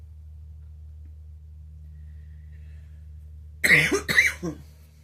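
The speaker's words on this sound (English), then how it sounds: "forgive me for the coughing and stuff" Two quick coughs break out near the end over a steady low hum, after a long stretch of near silence.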